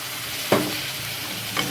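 Ginger and spices crackle in a hot pan with a close, continuous sizzle, broken by two sharp spatula scrapes against the metal.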